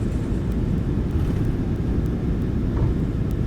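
Landing rollout of a Jet2 Boeing 737-800 in the MSFS 2024 flight simulator, with thrust reversers deployed: a steady, loud low rumble and roar that stays constant throughout, with no voices.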